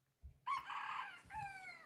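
A backyard rooster crows clearly and close by, a long strained call followed by a second shorter crow. Soft low thumps and clucks sit underneath.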